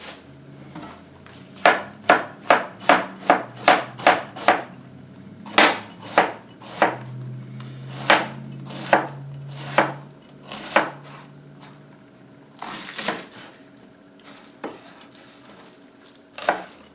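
A knife chops red cabbage crosswise into thin strips on a board, a fast run of crisp, evenly spaced cuts that slows into scattered, softer strokes, close and alone.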